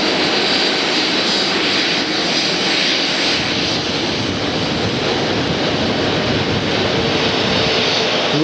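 A jet airliner takes off at Hartsfield airport in Atlanta, its engines giving a loud, steady broadband roar that holds without a break for the whole stretch. No one speaks over it.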